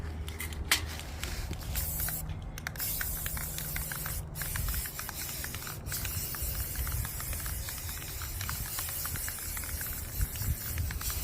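Gloss protective enamel spray paint in pure white hisses from an aerosol can in long continuous bursts, close and steady, with brief pauses and faint clicks between sprays.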